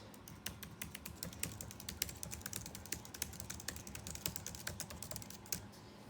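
Steady, quick keystrokes on a computer keyboard, a run of light, close clicks with an even rhythm and no talking.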